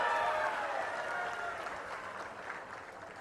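Audience at a political speech bursting into applause, a dense wash of clapping that is loudest at the start and slowly thins over a few seconds.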